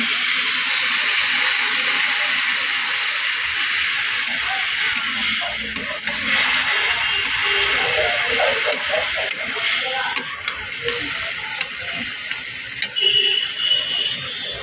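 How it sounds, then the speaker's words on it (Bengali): Water poured into a hot pan of banana-stem chorchori, giving a loud continuous hiss of steam and sizzle with faint stirring scrapes throughout. "এবার একটু জল দিয়ে নিচ্ছি"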